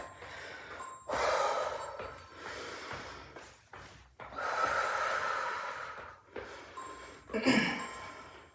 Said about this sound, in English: Exhale, fist of fire. Inhaling back.